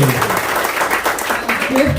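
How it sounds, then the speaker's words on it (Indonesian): Brief clapping from the audience at a business presentation, a short burst of many hands heard beneath a speaker's voice. "Tepuk tangan buat Bapak Ibu ya"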